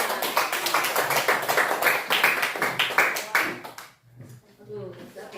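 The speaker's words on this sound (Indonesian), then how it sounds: "Tepuk tangan dulu buat kelompok 2." A class of students in a teaching simulation on coding and computational thinking claps for group 2, a dense, near burst of hand claps that fades out near the end, followed by faint talking.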